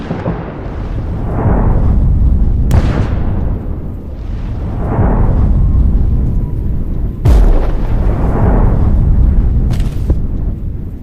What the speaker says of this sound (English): The first shot, a perfect hit.